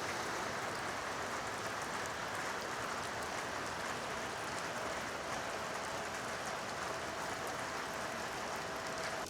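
Pouring rain falls at a small fishing dock, a steady, even hiss of drops that holds without a break, faint and continuous with no voices.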